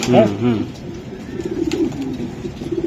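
A racing pigeon coos softly nearby at a market, low rolling calls repeating through the clip, with a brief voice at the start.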